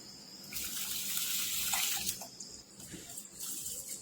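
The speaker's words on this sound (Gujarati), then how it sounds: "2-4 પાણીએ ધોઈ લઈશું" Basmati rice being washed in water for jeera rice, with a steady close rush of running water and swishing from about half a second on, no talk.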